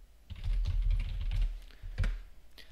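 Quick bursts of computer keyboard typing while editing tasks in Microsoft Project, close and crisp, with uneven clusters of keystrokes and short pauses between them, no voices.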